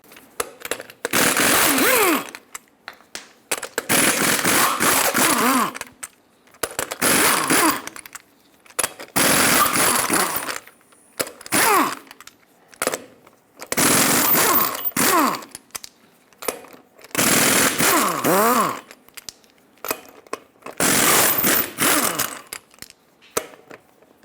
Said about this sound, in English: Use a 22mm socket to remove all 8 lug nuts